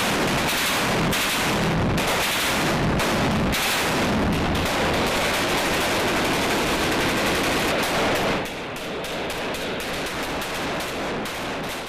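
Dense bursts of automatic gunfire and heavier artillery fire during an army assault in Syria, loud and continuous, with rapid volleys that ease slightly toward the end.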